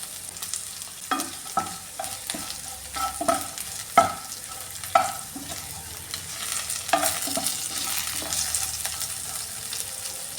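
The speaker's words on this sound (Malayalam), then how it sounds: "വെണ്ടയ്ക്ക എല്ലാം ഒന്ന് ഫ്രൈ ആയിട്ടുണ്ട്" Okra frying in a pan and being stirred for vendakka pachadi, with a soft sizzle under repeated sharp scrapes and knocks of a spatula against the pan, the strokes landing every second or so.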